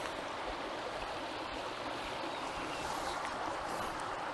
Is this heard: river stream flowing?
yes